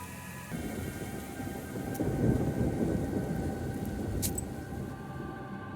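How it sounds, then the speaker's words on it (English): Thunderstorm over a rye field in the video game Black Book, with a deep rolling rumble of thunder and steady rain noise, a couple of sharp crackling strikes, loud and continuous with no talking. "You reach the rye field that is being shaken with the fury of the stormy sky."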